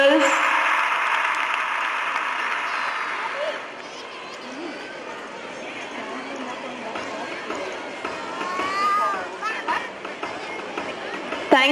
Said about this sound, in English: A round of applause for these girls.